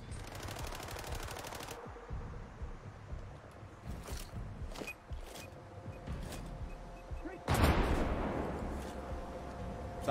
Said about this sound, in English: I'm throwing a grenade over there.